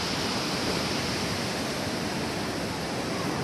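Beach ambience on a wintry day, with a steady broad roar of surf and wind, loud and unbroken throughout, no voices.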